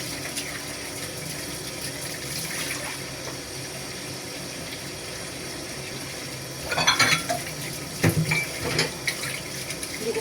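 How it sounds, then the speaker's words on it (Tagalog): Used plates get washed under a running tap, with a steady rush of water, clinks of dishes, and brief louder splashes near the end, close by. "Pupugas muna ako guys ng aming mga plato na ginamit."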